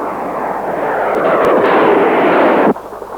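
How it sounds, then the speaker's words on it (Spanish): Anti-aircraft artillery batteries fire during an air attack in the Falklands War, a loud sustained roaring rumble with a few sharp reports, cutting off abruptly near the end. "Contestan nuestras baterías antiaéreas y se ve el refulgir de sus disparos en el aire."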